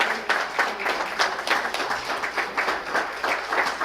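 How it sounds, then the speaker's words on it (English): Steady congregation applause in a church service, many hands clapping in a dense, even patter at moderate distance. "let's give her a great big round of applause"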